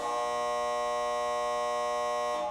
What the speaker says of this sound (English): So that buzzer means that is all the time we have